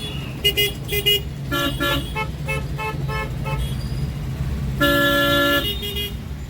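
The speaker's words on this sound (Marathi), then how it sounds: "ही माहीम रोड केळव्याकडे जाणारी ही ट्रॅफिक आहे ही बघा किती लांबच लांब रांग दिसते" Car horns honk in a traffic jam on Mahim road. Several short toots come in bursts, then one long blast near the end, all over the steady drone of idling traffic.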